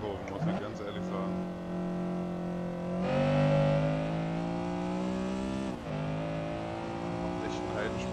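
Honda Civic SiR-II EG6 racing in the game Assetto Corsa, engine droning loud and steady with rising revs, a gear change and a brief dip before climbing again, continuous and close.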